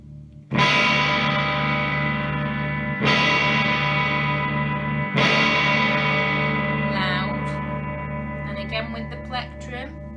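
An instrument played through an effects unit switched on rings out loud and distorted, struck three times with long, sustaining decays; a brief voice is heard near the end.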